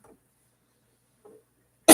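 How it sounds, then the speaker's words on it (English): A single sharp, loud cough bursts out at the very end, following near-silence broken only by a couple of faint, brief mouth sounds. "Today I did cough."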